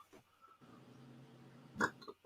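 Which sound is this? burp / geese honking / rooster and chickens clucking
burp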